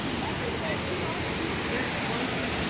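Decorative waterfalls splash in the Flamingo hotel courtyard in Las Vegas, a loud, dense, unbroken roar of falling water heard up close.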